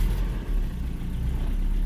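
1994 Toyota pickup truck engine with 212,000 miles running steadily, a close, continuous low rumble of even idling with no other sounds.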